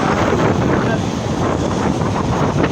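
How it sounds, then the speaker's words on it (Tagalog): Strong wind buffets the microphone in a continuous loud roar, steady and broadband throughout, with no clear voices. "Lakas na lang hangin guys."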